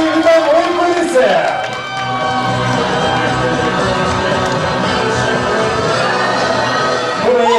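An audience at a student freshman ball cheers, whoops and claps loudly in a steady roar that continues throughout, with voices shouting in the crowd.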